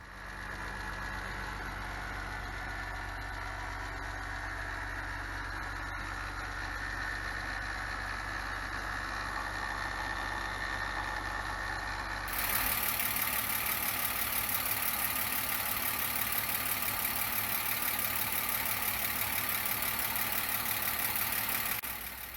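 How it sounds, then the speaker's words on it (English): A BMW engine idles in a driveway with its valve train rattling, a steady close mechanical drone that turns noticeably louder and harsher about halfway through and stays that way to the end. "While it was idling in the driveway, I heard some strange noises from the engine, then the valve train started rattling like crazy."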